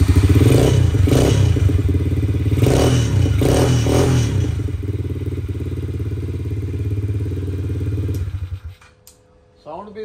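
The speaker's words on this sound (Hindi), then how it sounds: "डर्ट बाइक है जिसे मिनी ट्रेल बाइक भी बोला जाता है, ऑफ रोड बाइक भी बोला जाता है" Mini trail dirt bike, an off-road motorcycle for children, running loudly close by with throttle blips early on, then a steady engine drone that cuts off near the end, leaving brief clatter.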